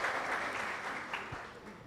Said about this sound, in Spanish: Vamos a recibirlas entonces con un fortísimo aplauso.